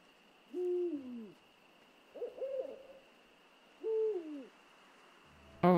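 Owl hooting in the game Endling - Extinction is Forever: three separate hooting calls, two long wavering hoots with a shorter trembling one between, over a quiet steady background hum, no talking.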